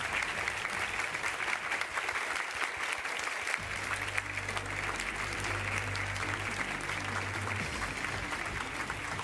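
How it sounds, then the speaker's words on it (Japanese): A crowd applauds a tournament winner at the Dead or Alive (DOA) Festival awards, a dense, sustained clapping for the whole stretch with a low hum entering partway through. "大きな拍手を送りください"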